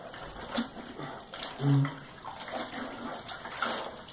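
Water splashes and pours in uneven bursts, close by, as it rinses down over a horse's coat.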